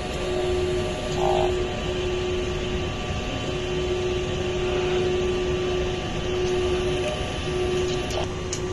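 A printer runs a head clean cycle, giving a steady loud mechanical hum with a constant tone and occasional brief clicks and whirs, close by and without speech.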